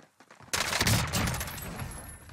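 Sustained weapon fire in a Call of Duty Resurgence match erupts suddenly after a quiet moment and continues as a loud, dense barrage of overlapping shots.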